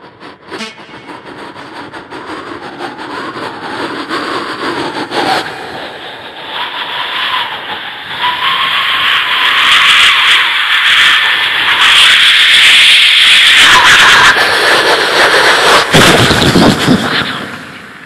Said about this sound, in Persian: شروعش با صدای طوفان و رعد و برق و اصلا آدم وحشت میکنه